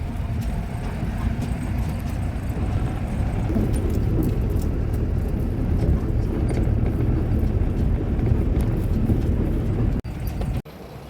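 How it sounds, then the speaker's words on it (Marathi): Vehicles pass along a dusty road, a loud, continuous close rumble of engines and tyres that holds steady throughout before a couple of abrupt dips near the end. "अशा गाड्या जातात ना फार धुरळा उडतो"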